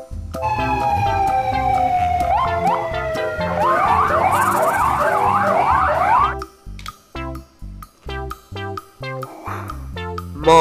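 A police car siren wails and rapidly whoops up and down over upbeat music, then stops abruptly as the music carries on by itself.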